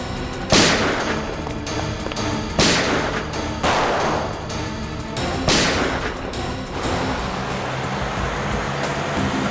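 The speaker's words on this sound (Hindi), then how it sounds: "एक काम करो, मुझे कवर फायर दो," Gunfire during a shootout in a TV crime drama: several sharp, loud shots spaced a few seconds apart over steady dramatic background music and ambience, with no talking.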